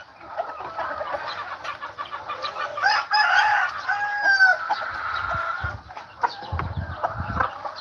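Several backyard roosters, including a black one, crow and cluck among hens in a flock, with overlapping calls, a long crow in the middle and scattered clucks and scuffling throughout, fairly close and clear without talk.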